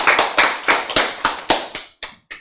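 A small audience at a Bible lecture claps in a handful of sharp, rhythmic beats, loud and close, slowing and thinning out toward the end.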